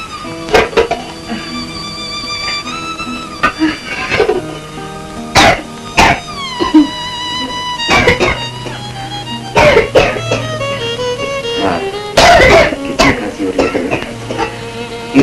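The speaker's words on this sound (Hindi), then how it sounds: "ऐसी खांसी तो होती रहती है बेटा।" A woman coughs repeatedly in sharp, harsh bursts spaced a second or two apart, close and loud, with clattering and background tones between the fits.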